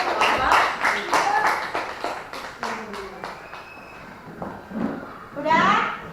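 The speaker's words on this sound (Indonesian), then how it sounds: "silakan tepuk tangan untuk kelompok" A class claps hands together, a burst of quick, irregular claps that fades out, then picks up again with children's voices chattering nearby.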